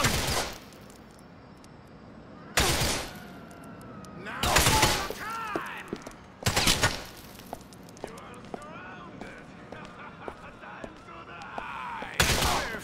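Gunfire bursts in Grand Theft Auto IV story mode, several loud sharp shots and shattering impacts spaced across the scene with game effects and voices between them.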